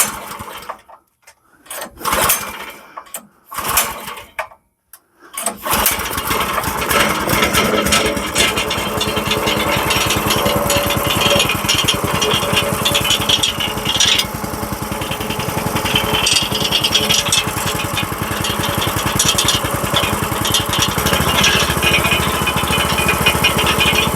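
The small gas engine on an Iron Rhino 16 ft firewood conveyor is pulled over a few times in short bursts, then catches and runs at a steady, loud, buzzing idle for a long stretch.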